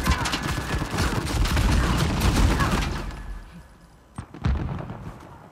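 Rapid bursts of blind-fire gunshots in Uncharted 4 multiplayer, loud dense volleys for about three seconds, then quieter gaps broken by a few sharp isolated shots near the end.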